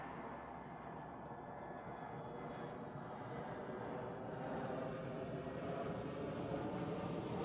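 Edelweiss Airbus A320 arriving from Pristina on approach to land at Zurich Airport, a steady broad jet roar that holds throughout and swells slightly louder toward the end, with no voices.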